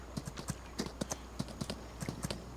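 Horse hooves clip-clopping in Farming Simulator 25, a quick uneven run of crisp hoof knocks at walking pace, close and clear over a faint low hum.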